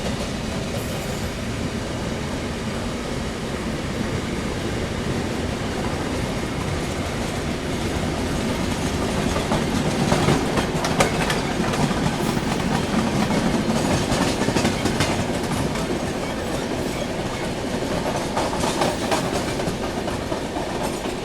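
The Mangala Lakshadweep Express runs on rails with a loud, continuous rumble and rhythmic clickety-clack of wheels over joints, heard from on board, swelling around the middle.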